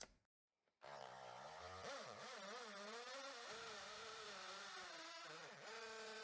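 A drill with a punch bit bores into material, a loud steady motor whine with wavering pitch that starts up abruptly after a short silence and continues under load.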